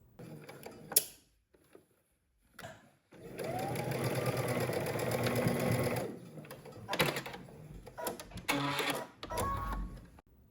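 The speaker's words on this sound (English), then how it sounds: "at the sewing machine, we're gonna stitch it down using 5/8 of an inch seam allowance" A sewing machine whirs through a steady stitching run of a few seconds, preceded and followed by short clicks and handling noises.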